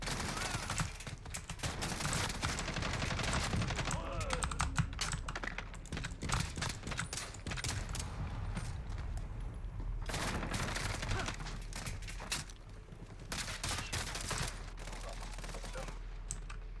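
Bots in Modern Warfare fire the FR 5.56 rifle in a video game, giving dense, continuous volleys of rapid gunshots that overlap into a sustained fusillade, loud and close for the whole stretch.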